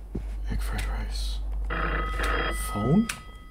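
Telephone ringing inside a horror video game, repeated bell-like tones under continuous talk and game sounds, with a rising tone near the end.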